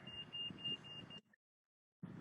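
A short run of rapid electronic beeps from a pedestrian crossing signal over a low hum, cutting off abruptly into silence before the hum returns.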